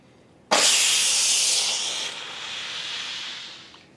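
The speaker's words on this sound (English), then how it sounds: "A rocket of steam is going to come out of this valve" Steam blasts from a pressure cooker valve during quick release, beginning with a sudden loud hiss that holds strongly, then eases to a softer, steady whoosh before tapering off.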